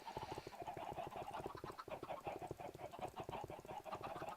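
Flock of chickens in the video game Minecraft clucking rapidly and continuously, many overlapping clucks at a steady moderate level with no talk.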